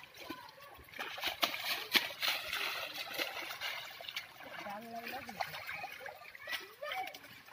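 Soaked jute fibre being washed by hand in water gives repeated splashes and sloshing, fairly close and irregular, with voices talking in the background.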